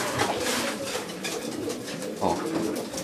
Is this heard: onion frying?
no